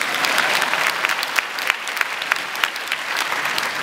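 A concert audience at a US Air Force Jazz Band evening in Dnipro claps steadily, a dense crackle of many hands filling the hall at a fairly loud, even level.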